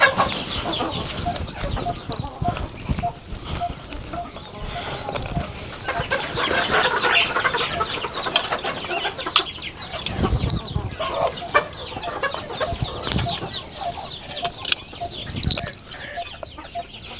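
Chickens clucking in a poultry shed holding about thirty birds, a dense, busy chorus of overlapping clucks and squawks, close and continuous throughout.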